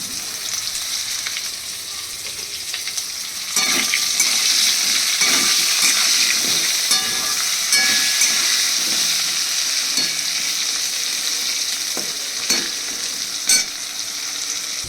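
Potato pieces frying with turmeric and salt for a fish curry, a steady bright sizzle that thickens partway through, with occasional spatula scrapes and clinks against the pan, close and continuous with no talking.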